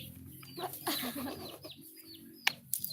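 A chicken clucks close by in a home kitchen setting, a run of short rising clucks and chirps with a couple of sharp knocks near the end.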